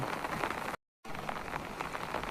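Steady rain pours down over Dhaka amid lightning in a dense, even hiss, broken by a short moment of silence before the downpour resumes.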